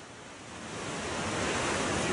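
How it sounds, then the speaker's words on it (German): Huge ocean waves on Tofua island roar as a broad, rushing wash of surf that builds steadily louder over a couple of seconds, with no voices. "sehe ich zum ersten Mal solche Wellen. Riesenwellen."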